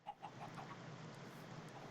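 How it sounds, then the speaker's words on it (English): Several chickens cluck softly inside a Techno Monument in a video game, a few short, faint clucks early on over a steady low background hum. "the Techno Monument has a bunch of chickens inside now"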